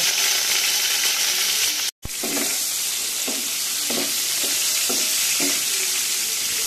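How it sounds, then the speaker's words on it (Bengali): Pointed gourd (potol) fries in hot oil with nigella seeds, giving a steady close sizzle broken by regular stirring scrapes and one brief cut in the sound, with no talking. "পটলগুলো কিন্তু বেশ ভালো করে পুরো লাল লাল করে ভেজে নিতে হবে, খুব কড়া করে ভাজতে হবে পটলগুলো।"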